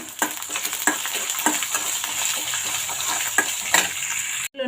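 Coriander seeds, cumin and peanuts roasting in a pan give a steady, fairly loud crackling sizzle, with repeated spoon strokes scraping through them and no talking.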